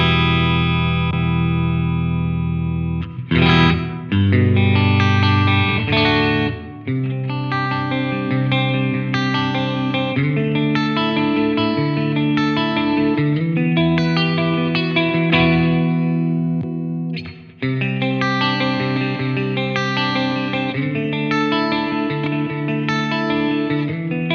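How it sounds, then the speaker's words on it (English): Electric guitar played through the clean channel of a Steve Morse Signature 20 bedroom amp. It rings on its own in sustained chords and melodic runs with chorus-like shimmer and reverb, with brief pauses between phrases. "I prefer the clean channel of the Steve Morse"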